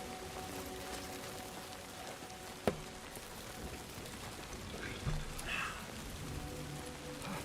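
Steady timefall rain from the video game Death Stranding 2, a dense continuous patter on surfaces with one sharp knock partway through and a few faint splashy swells.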